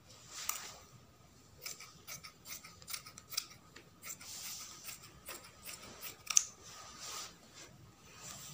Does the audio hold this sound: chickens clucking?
no